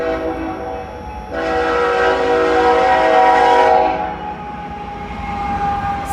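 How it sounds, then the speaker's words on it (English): A freight train led by a single locomotive rolls past close by, a loud steady rumble swelling for a few seconds with a sustained horn tone running through it, then easing slightly. "The train stopped down there, but there's another one coming."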